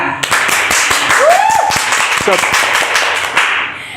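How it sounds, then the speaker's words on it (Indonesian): Studio guests on an Indonesian podcast applaud to welcome a guest, a dense burst of clapping lasting several seconds with voices and a brief whistle-like call mixed in. "Tepuk tangan dulu ya."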